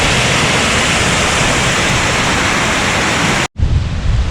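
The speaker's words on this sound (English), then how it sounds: "Honestly, these waterfalls are beautiful." Small waterfalls at the Fairy Pools on the Isle of Skye pour in a loud, steady broadband rush close to the microphone, broken by a brief cut before the water noise resumes.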